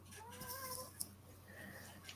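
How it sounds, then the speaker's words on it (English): A little kitty meows indoors with a sink running nearby, its brief tonal cries rising and falling over a steady low hum, followed by a short sharp click and quieter rustling. "is that a little kitty?"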